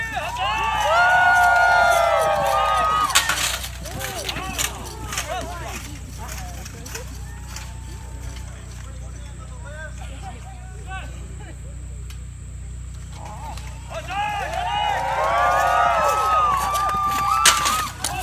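Renaissance faire jousting crowd cheering and shouting in two loud swells at the start and end, with quieter murmuring and scattered voices between; possible hoofbeats faintly underneath.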